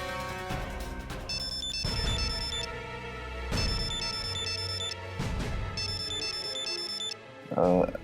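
A melodic electronic ringtone chimes repeatedly in short bursts, loud and close, over music and a low hum.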